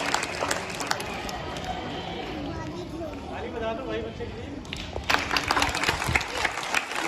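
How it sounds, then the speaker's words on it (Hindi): A crowd at a college poetry gathering for a Republic Day celebration claps to welcome a poet; scattered applause and chatter open the moment, fade under voices, then swell again toward the end. "जोरदार तालियों के साथ स्वागत करें"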